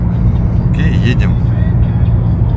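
Steady low engine and road rumble from inside a car driving in New Brunswick, New Jersey, with brief voices in the cabin partway through.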